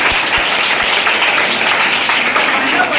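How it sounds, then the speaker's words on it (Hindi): A room of coaching-class students bursts into a short round of steady applause, dense clapping filling the space for a few seconds with a voice faintly underneath. "चलो भाई, ताली ताली ताली"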